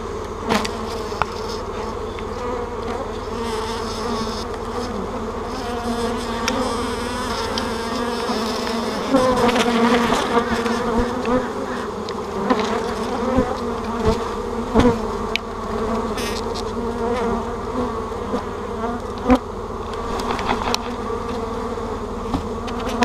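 Honey bees buzz in a dense, continuous swarm drone close by as vacuumed bees are brushed into a laying-worker hive, with a few soft knocks and brush strokes breaking the steady hum.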